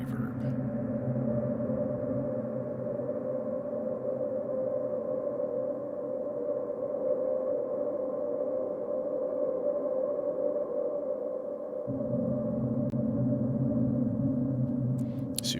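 A dark, spooky ambient drone from a Eurorack modular synthesizer with reverb, sustained and steady, with low layered tones that swell in fuller partway through and a few faint clicks near the end.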